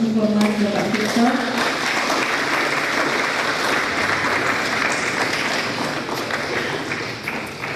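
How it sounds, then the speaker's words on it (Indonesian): An audience at an insecticide product launch event applauds for an honored guest, a dense sustained burst of clapping that slowly fades, with a voice briefly audible at the start. "Kita berikan tepuk tangan untuk yang hormat Bapak Victor."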